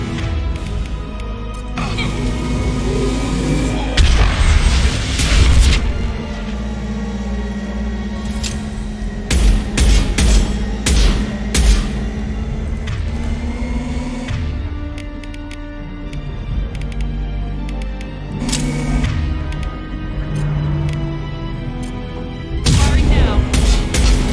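Heavy gunfire and explosions in Mass Effect 2 combat, with repeated sharp bursts of shots and booming impacts scattered throughout over a low rumbling bed, and voices speaking intermittently.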